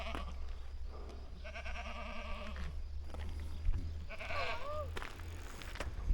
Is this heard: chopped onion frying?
no